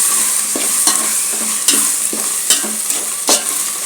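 A ladle stirs dum biryani yakhni frying in a pot, with a steady close sizzle broken by regular scraping strokes and no talk.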